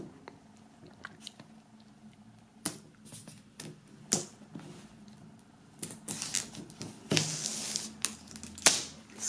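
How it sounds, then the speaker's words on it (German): Plastic shrink-wrap film being peeled and torn off a black-and-white DVD box set, producing scattered close crinkles and snaps that grow denser and louder toward the end, with no talking. "Und dann werden wir die Folie mal entfernen."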